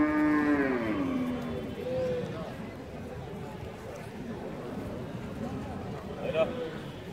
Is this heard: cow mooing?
yes